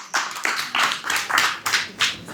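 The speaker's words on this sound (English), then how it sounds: "Round of applause." A small group gives a round of applause, about seven distinct claps or bursts in a loose, uneven rhythm, close and fairly loud, with no talk over it.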